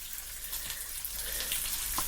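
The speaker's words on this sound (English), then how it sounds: "Yeah, just my bacon sizzle." Bacon sizzling in a pan, a steady hissing crackle with scattered pops, moderately quiet and continuous.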